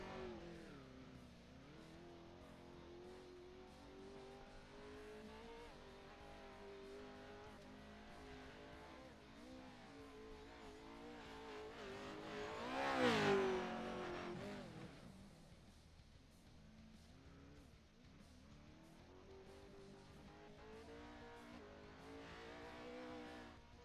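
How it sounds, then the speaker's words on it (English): Pro 2 off-road race truck engine on a warm-up lap at Crandon, a continuous loud rumble that swells to a brief revving peak midway, then settles back to a steady drone. "He's going to take his warm-up lap right now."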